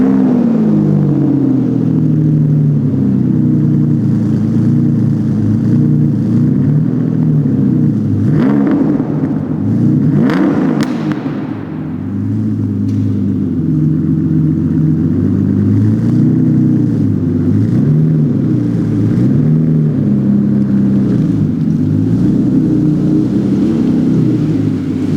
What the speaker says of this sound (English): Such a glorious tone from the exhaust and from the engine.